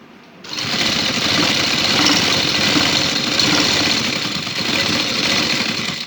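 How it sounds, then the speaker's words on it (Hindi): A sewing machine stitches gota cord onto a trouser hem, starting after a brief pause and then running steadily with a fast, close mechanical whir and chatter until the end. "हमारे पास ये गोटा डोरी है, हम इसको लगाएंगे बिल्कुल साथ रख के थोड़ी गैप पे इसके ऊपर सिलाई लगाएंगे।"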